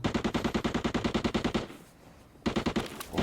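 Rapid automatic gunfire in the video game Arena Breakout fires in a long rhythmic burst, pauses briefly, then resumes with another loud burst.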